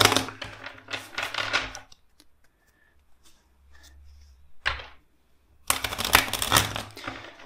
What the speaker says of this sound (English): Let's shuffle first the deck 5 times.